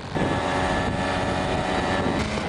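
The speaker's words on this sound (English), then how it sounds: "So we're gonna drive out on these tiny four-wheelers out to this cliff." A small four-wheeler quad bike engine drones steadily while riding toward a cliff in Cyprus, with a rough buzzing hum and wind rushing across the microphone throughout.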